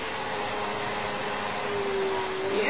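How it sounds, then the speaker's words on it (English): A vacuum cleaner runs close by with a steady, continuous broadband whine and a faint rising tone near the end, with no talking. "Vacuum cleaning!"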